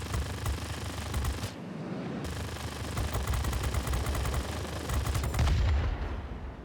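XF-85 Goblin fighter in World of Warplanes firing its machine guns in rapid sustained bursts, close and loud, with a short pause early on over constant engine noise.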